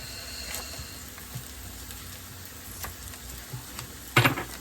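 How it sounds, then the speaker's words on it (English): Peppers, onions and mushrooms sizzle steadily in a pan, a close, even frying hiss with small pops and a sharper clatter near the end; no one speaks. "the peppers and the onions and the mushrooms are cooking down over there"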